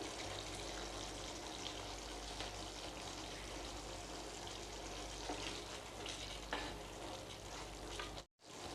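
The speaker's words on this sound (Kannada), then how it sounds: "ಇದು ನೋಡ್ರಿ ಇದು ಕುದಿಯತೈತಿ" Masala gravy for Kolhapuri paneer bubbling and simmering in a pan, a steady close seething hiss with soft popping and no talking, cut by a brief dropout near the end.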